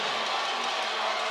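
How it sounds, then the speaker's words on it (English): A men's college volleyball crowd at St. Clair erupts after a big block, giving a brief, dense roar of cheering that fills the hall at a steady loud level. "Just listen to that crowd."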